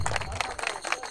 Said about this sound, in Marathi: जोरदार टाळ्या होऊन जातात.